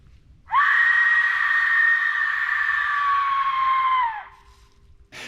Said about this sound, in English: the Amazon death whistle. A mysterious ancient artifact from South America that, when blown, emits one of the most unsettling human-like screams you will ever hear.